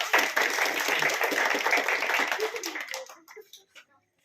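An audience at a Constitution Day celebration breaks into dense, close applause during a flower welcome ceremony, holding steady for about three seconds before thinning into a few scattered claps and fading out.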